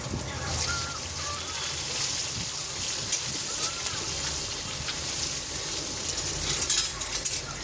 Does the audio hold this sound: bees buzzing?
no